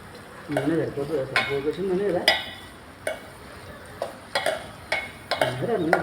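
Spoon stirring a curry in a frying pan, with repeated scraping strokes and clinks over a soft sizzle, close by, while someone talks over the stirring.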